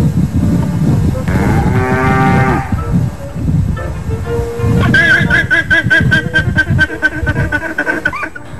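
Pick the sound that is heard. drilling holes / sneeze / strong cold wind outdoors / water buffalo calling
water buffalo calling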